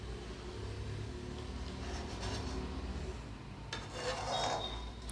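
Thick semolina kurdai dough is stirred and worked in a pot, giving a steady scraping, rubbing sound that grows heavier and more grinding toward the end, with no talking.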